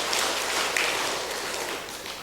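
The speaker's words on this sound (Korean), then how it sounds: "박수 한번 해주시면 할렐루야" Congregation applause at a Sunday church service, thanking the parking volunteers: a steady, dense wash of many hands clapping in a large room, moderately distant and sustained throughout without breaks.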